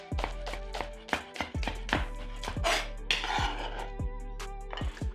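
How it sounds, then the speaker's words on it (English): A knife chops scallions on a cutting board in a home kitchen, with rapid, even strikes close up over a steady low hum and no talking. "Chop 2 scallions."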